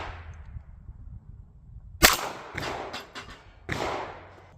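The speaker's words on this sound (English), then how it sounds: "I sure hope you guys can hear me over that gunfire." Several sharp, loud pistol shots crack out at close range at bowling pin targets, one sudden report followed by a few more spaced irregularly, each ringing out briefly.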